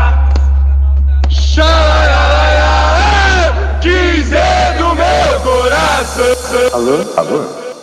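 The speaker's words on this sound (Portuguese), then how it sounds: "Chegou a incansável torcida organizada Inferno Verde, a primeira de Ponta Grossa" The organized football supporters' group Inferno Verde of XV de Outubro from Ponta Grossa chants loudly and continuously with many voices over a heavy, steady low bass drone.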